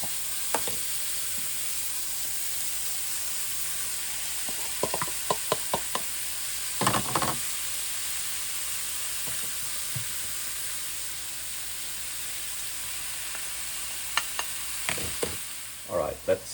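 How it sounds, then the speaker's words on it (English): Whole chanterelle mushrooms fry with onion in a pan for a Saxon mushroom soup, a steady close sizzle broken by scraping stirs and clacks of the spoon. "Let's add the mushroom."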